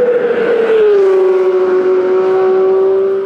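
Porsche 911 GT3 RS naturally aspirated flat-six engine, loud and near, holding a high, smooth wailing tone that dips slightly and then sustains steadily throughout.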